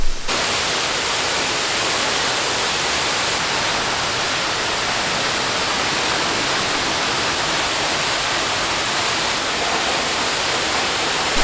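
Ellenborough Falls roaring steadily, a broad, unbroken rush of falling water heard up close and loud, with no voices over it.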